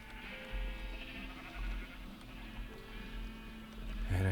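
A sheep bleats in Minecraft, a wavering sustained bleat at moderate volume over a low background hum, ending with a louder burst.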